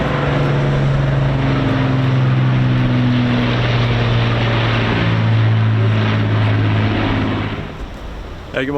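An Avro Lancaster bomber, PA474, flying overhead at an air festival, its four propeller engines giving a loud, steady droning roar with a beating tone that fades slightly near the end.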